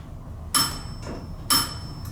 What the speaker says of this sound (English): now listen to this chime when I press